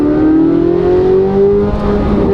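A Chevrolet Corvette Z06 engine revs up in one loud, close, rising sweep that holds at a high pitch, with no talking.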